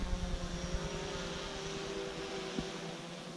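A DJI Phantom 4 drone flying a fast sport-mode figure eight gives off a thin, steady propeller whine with a slight shift in pitch, faint and somewhat distant, with no speech.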